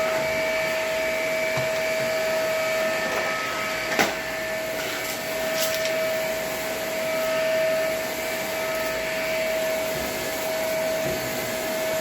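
A vacuum cleaner fitted with a crevice tool runs steadily over a small food-stained kitchen mat, giving a constant loud whine and hiss with a few brief knocks and scrapes along the way.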